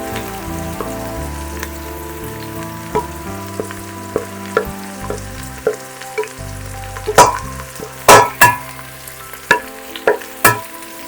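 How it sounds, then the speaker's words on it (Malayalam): Onions sautéing in a pan for biryani masala, a close steady sizzle with a background hum and a run of sharp scraping stirs and knocks toward the end, no talk. "സവോള നന്നായിട്ട് വഴറ്റി കിട്ടണേ"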